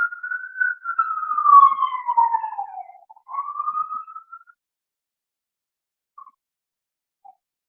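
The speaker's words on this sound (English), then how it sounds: "I don't know if you can hear the siren more than me" A lone siren wails, its tone sliding downward and then rising briefly before fading out, leaving a couple of faint blips in silence.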